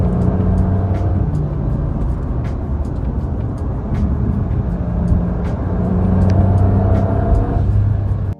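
A 2025 Porsche 911 Carrera GTS T-Hybrid on the road in Cape Town, its engine a steady droning rumble that swells slightly toward the end, with no voices.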